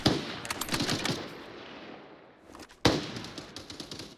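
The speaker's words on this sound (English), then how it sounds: "Oh, I'm getting shot." Video game gunfire in a free-to-play shooter, heard as rapid bursts of shots at moderate distance. A fading stretch follows, then a sharp loud shot and more scattered fire.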